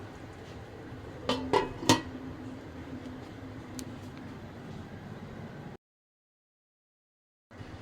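A metal lid is set onto a pot of vegetable khichuri, giving a few sharp metallic clanks close by over a steady cooking hiss, followed by a brief silence.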